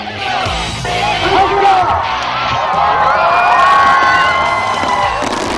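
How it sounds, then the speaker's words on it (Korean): A large crowd cheers and shouts at the opening of a world fireworks festival, a loud sustained roar with high whoops and children's yells, whistling tones weaving through it. "관중의 환호성과 함께 시작된 불꽃놀이"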